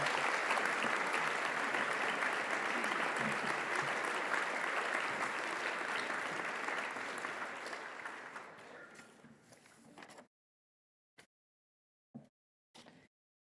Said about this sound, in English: Let's give them all a large hand of applause.